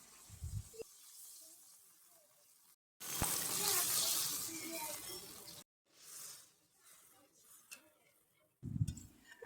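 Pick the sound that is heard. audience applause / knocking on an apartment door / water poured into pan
water poured into pan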